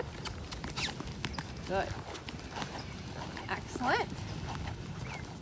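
A horse canters in a riding arena, its hoofbeats a steady rhythmic drumming on soft footing under a trainer's voice calling out praise.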